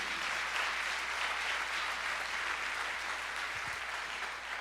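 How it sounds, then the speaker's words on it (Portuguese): Church congregation applauding at a worship service, an even, continuous patter of many hands clapping, heard at moderate distance and fairly quiet with a low hum beneath. "levante as suas duas mãos e aplauda ao Senhor para a glória dEle"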